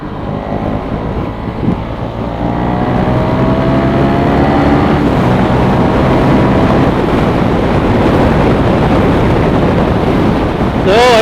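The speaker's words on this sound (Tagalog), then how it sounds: "ang lakas pala ng hangin" Strong wind buffeting the microphone of a rider on a moving motorcycle in a continuous loud roar, with a low engine drone underneath and no speech.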